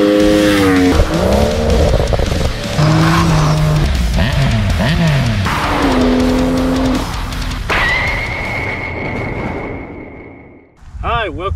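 A 2019 Triumph Scrambler 1200 XC motorcycle engine runs loud and close, its pitch swinging up and down through repeated revs before settling into a steady high tone, then briefly dropping away.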